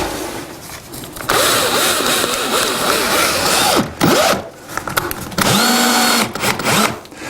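A power drill whirs in several bursts, pitch rising and falling as screw-and-plug fixings are driven in while installing plinth insulation, with short pauses between runs; loud and close.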